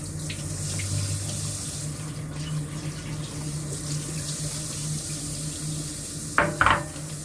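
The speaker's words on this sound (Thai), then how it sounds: "ทุกอย่างล้างให้สะอาดนะคะ" Tap water runs steadily into a kitchen sink while ingredients are washed for a sweet papaya dessert soup, a soft continuous splash with a couple of brief clatters near the end.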